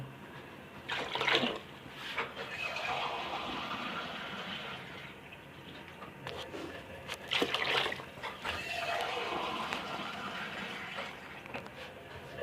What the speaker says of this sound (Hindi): अब हम इसमें पानी डालेंगे।